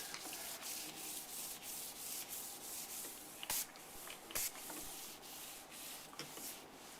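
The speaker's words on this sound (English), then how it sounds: "So set that aside and just continue applying the sealer." Stone sealer is rubbed onto a marble countertop in a quiet series of repeated wiping strokes, with a few sharper scuffs along the way. No one speaks.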